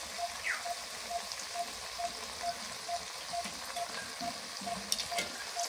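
Okra with onions simmers down in a pan as the water nearly boils off, a steady close sizzle and bubbling with a faint, evenly spaced ticking running underneath and an occasional stir.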